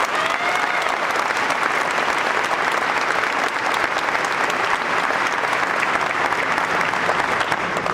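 Sustained, loud applause from a large crowd at a university commencement, a continuous even roar of clapping with no pauses.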